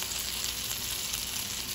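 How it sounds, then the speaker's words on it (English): Beyond sausage sizzling in a hot pan, a steady, close crackling fry with no pauses and no talking. "I'm making some Beyond sausage"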